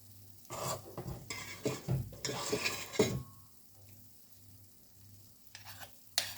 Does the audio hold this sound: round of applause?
no